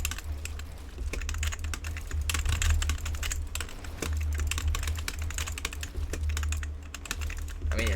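Rapid, steady typing on a cheap wired computer keyboard, dense clattering keystrokes close up over a low hum, with no pauses throughout.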